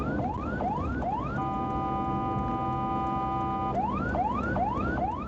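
Ambulance siren on the Jakarta–Tangerang toll road, loud and close, cycling through rapid rising whoops, then switching to a steady multi-tone wail for a couple of seconds before the whooping resumes, with road noise underneath.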